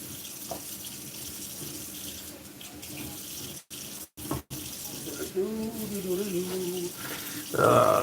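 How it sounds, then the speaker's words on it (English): A kitchen tap runs steadily while pepper seeds are rinsed out, a soft continuous water hiss with brief cut-outs and a voice speaking over it toward the end. "make sure to rinse out all those seeds"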